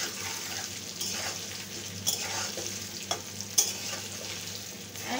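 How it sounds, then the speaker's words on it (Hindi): Potatoes for mutton kosha fry in a pan with a steady soft sizzle, punctuated by a few sharp clinks and scrapes of stirring, close and with no talk. "এবার আমি এটাকে ভেজে নেব।"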